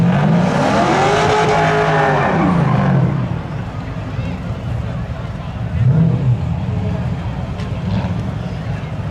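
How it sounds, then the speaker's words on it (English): Drag racing cars, including a 1989 Chevy Camaro, roar at Seekonk Speedway spectator drags, with a loud engine rising and falling in pitch, then a second quieter rev, under a fast-talking announcer and crowd noise. "Monahan, 1989 Chevy Camaro"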